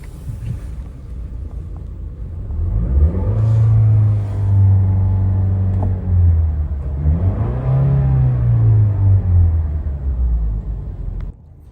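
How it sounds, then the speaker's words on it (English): A car engine cranks and catches, then idles with a low, steady drone before being revved up and falling back. It sounds close and loud, with no talking. "I'm gonna turn my car on and then I'm gonna like rev it up, meaning like press my foot on the gas"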